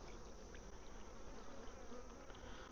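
Honey bees buzz steadily at an outdoor beehive during an inspection and feeding, a dense continuous drone of many insects close by with no talking.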